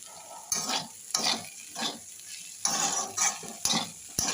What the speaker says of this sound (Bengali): কষিয়ে নেব এবার সামান্য ধনের গুঁড়ো জিরে গুঁড়ো দিয়ে দেবো